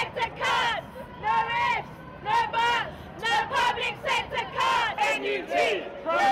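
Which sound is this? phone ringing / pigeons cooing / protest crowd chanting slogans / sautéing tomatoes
protest crowd chanting slogans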